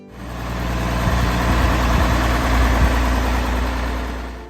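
A 1970s–80s International 1066 farm tractor's engine runs steadily, close and loud, with a deep low rumble and a few small knocks. No one speaks.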